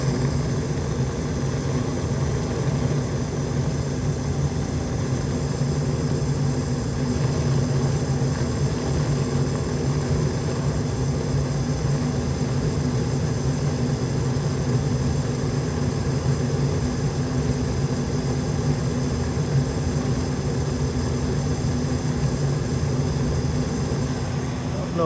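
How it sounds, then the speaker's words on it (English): A Goodman gas furnace runs with its blower fan on, giving a loud, steady low roar and hum that continues evenly throughout with no breaks. "Let's watch these flames when the fan comes on."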